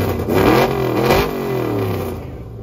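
A race car engine revs hard up close at a track, its loud rising scream climbing and falling through about two pulls before easing off.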